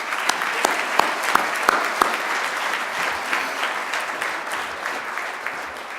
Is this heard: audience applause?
yes